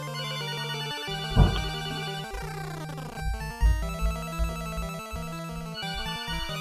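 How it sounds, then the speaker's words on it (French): An old-style telephone bell rings in a tonal, repeating pattern, loud and alone, layered over a steady synthesized chiptune-like drone. "Ça téléphone tout le temps, mais c'est jamais pour moi"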